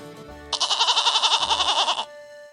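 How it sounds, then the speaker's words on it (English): A farm goat gives one loud, wavering bleat lasting about a second and a half, close and clear with no other sounds around it. "The goat says ma, ma."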